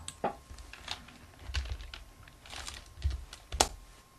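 Light typing on a computer keyboard as an account ID and password are entered for an online login, with scattered, uneven keystrokes heard up close against a quiet background.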